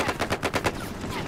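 A 20 mm gun firing in a tank battle video game, a rapid burst of about six heavy, evenly spaced shots in a fast rhythm, close and loud, with no voices over it.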